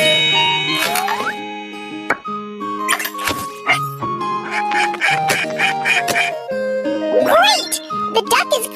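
A cartoon duck quacks repeatedly in short bursts amid bright chimes and playful background music, in a children's animated vet scene where a baby panda doctor treats the duck.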